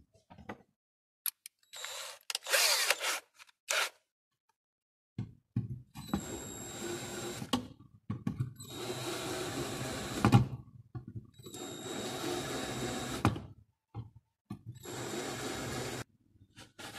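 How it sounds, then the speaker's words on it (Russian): A countersink bit deburrs a drilled hole in a mechanical vending machine in several short bursts of power-tool whirring and grinding, separated by quiet gaps and small clicks. The sound is close, with no talking. "Теперь отверстие нужно обработать зенкером."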